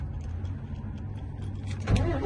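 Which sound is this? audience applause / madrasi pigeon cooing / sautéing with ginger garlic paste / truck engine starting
truck engine starting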